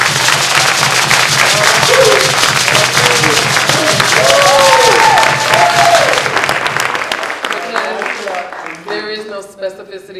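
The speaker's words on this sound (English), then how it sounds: "And so I clap for you." A crowd applauds at a jazz anniversary benefit celebration, with loud, dense clapping and whoops and cheering voices mixed in, then the clapping thins and fades toward the end.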